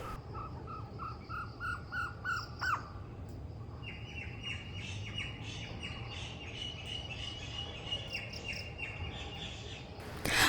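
Several birds call outdoors at dusk: a repeated series of clear chirps, a sharp squawk, then a steady run of shrill calls over a low insect hum.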